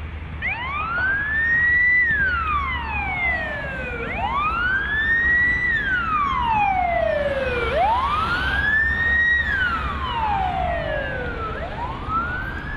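Fire engine sirens wail through the streets of Solikamsk during a fire service drill, rising and falling in long, smooth sweeps about every three and a half seconds, loud and continuous over a low traffic rumble.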